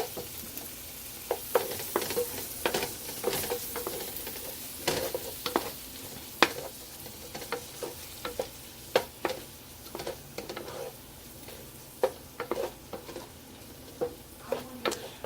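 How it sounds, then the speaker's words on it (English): Rotel tomatoes and garlic sauté in a hot pan with a soft ongoing sizzle, broken by frequent sharp scraping taps of a utensil stirring. "And we're going to turn up the heat and saute that in there."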